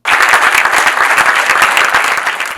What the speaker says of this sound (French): Des applaudissements bien nourris pour saluer l'avant-première du chef-d'œuvre cinématographique Dahomey